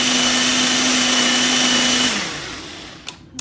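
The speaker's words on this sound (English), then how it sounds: "It's only supposed to be about 60 seconds with an immersion blender, and since I don't have one of those, I'm just using my Nutri-Ninja." A Nutri-Ninja blender whirs loud and steady, blending homemade ranch dressing, with a constant motor hum. After about two seconds the motor winds down, then a couple of soft clicks and knocks follow as it stops.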